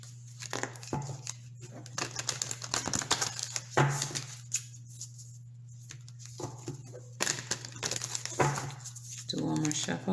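Monology oracle cards being shuffled by hand, a run of close papery riffles and soft crinkling bursts spread through the stretch, with a steady low hum beneath and some talking in between.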